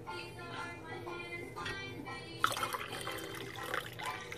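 Water poured into a cup of tea made with tea essence and water, a soft continuous trickle heard close by that grows louder and brighter partway through, in a quiet indoor room with no talk.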